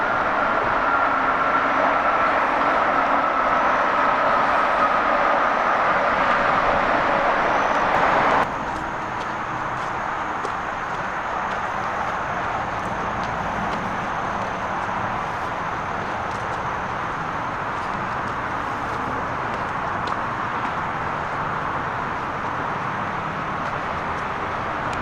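Road traffic carries steadily to a forest hiking trail on the Susquehanna Trail and Appalachian Trail loop, a continuous broad whooshing roar that is louder at first, then settles into a softer, even hum with no voices.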